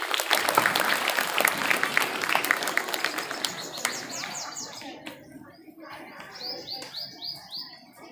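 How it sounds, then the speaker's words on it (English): An audience at a Republic Day school function claps loudly for a guest, dense applause that thins out after a few seconds while birds chirp and tweet nearby. "Please everyone clap loudly."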